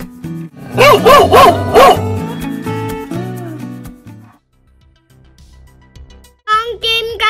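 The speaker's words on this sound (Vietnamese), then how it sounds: "Con chó." A dog barks in a quick run of loud, close yaps, then falls quiet before a few higher yelps and whines at the end.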